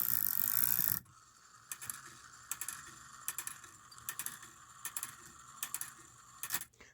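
Antique cuckoo quail clock mechanism from around 1900-1914 runs with its low note lever bouncing, giving soft irregular clicks and ratcheting taps over a quiet mechanical background.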